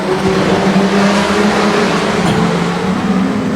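Street stock race cars accelerating four wide off the green at Redline Raceway, a loud dense roar of many engines revving together, steady and close, no talk.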